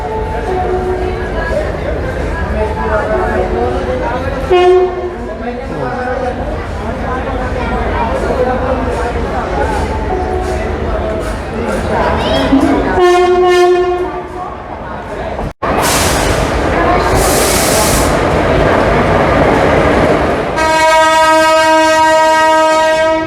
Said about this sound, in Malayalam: നമ്മുടെ ട്രെയിൻ അവിടെ നിന്ന് വരുന്നുണ്ട്.